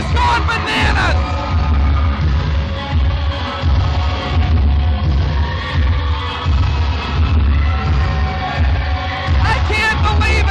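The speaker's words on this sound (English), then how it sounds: "Look at this crowd, it's gone bananas!" A wrestling event crowd cheers and yells wildly, a dense continuous roar of whoops and shouts filling the arena, with louder bursts rising throughout.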